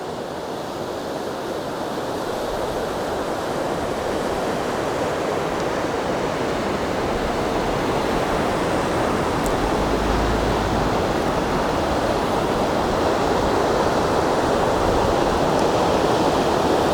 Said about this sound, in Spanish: además de esta belleza de cascada que tenemos acá